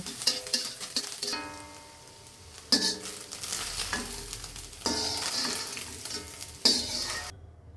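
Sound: scrambled egg frying in pan

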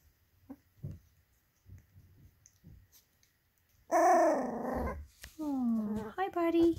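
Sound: three-week-old puppies growling and barking

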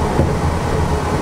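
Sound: Disneyland monorail train approaching Tomorrowland Station

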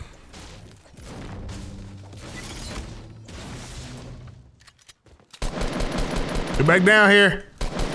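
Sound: gunfire from video game Fortnite, shots through a wall

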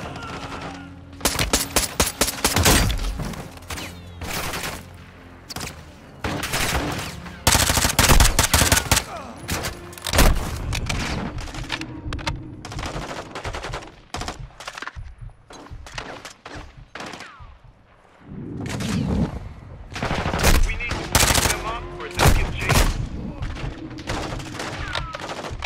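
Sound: gunfire, from video game Call of Duty: Modern Warfare II

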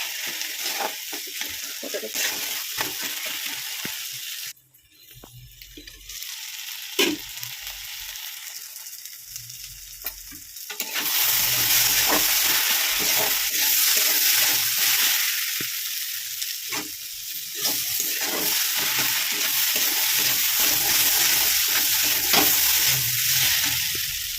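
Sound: sautéing fish curry with raw bean seeds in a pan

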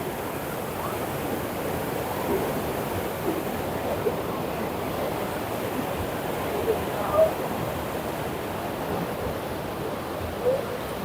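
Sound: water flowing in an irrigation canal near Harike headworks

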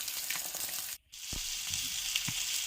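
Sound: fish frying in a pan

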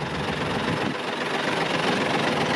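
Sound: Isuzu Giga truck diesel engine idling

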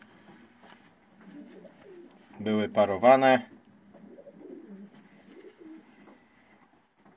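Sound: pigeons cooing in a pigeon loft

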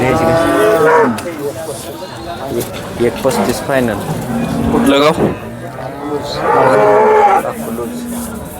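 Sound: cow mooing at the Sangola cattle market

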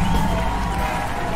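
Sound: audience applause

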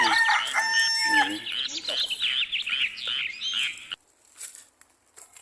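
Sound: bantam and jungle fowl chickens

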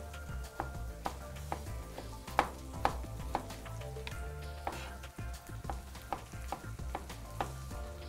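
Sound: tomato chunks frying in a pan with chillies

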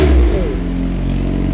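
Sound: modified Honda Civic exhaust revving loudly

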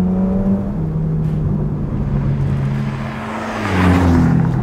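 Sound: Ferrari Portofino M twin-turbo V8 engine accelerating

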